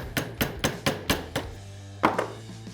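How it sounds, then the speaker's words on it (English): A brass-tipped hammer drives a gas block onto the barrel of an AR-15 rifle chambered in 350 Legend, giving about six evenly spaced, sharp, close metallic taps, a brief pause, then two more strikes. "I'm going to take a wheel or hammer that's got a brass tip on it, and I'm just going to start to drive"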